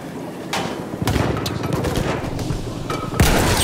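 Rapid bursts of machine gun fire and scattered rifle shots on the Somme River battlefield in Battlefield 1, loud and close, with a heavy boom near the end.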